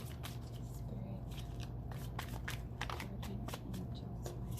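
Tarot cards are shuffled by hand in a quiet room, a run of quick, crisp riffling snaps and slides at close range against a low background hum.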